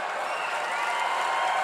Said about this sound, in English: People applauding that somebody has dementia.